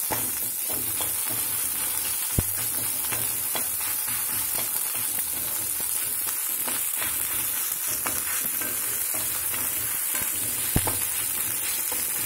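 Carrots fry in oil for egg fried rice, a loud steady sizzle with a constant bright hiss and a few sharp knocks from a utensil in the pan.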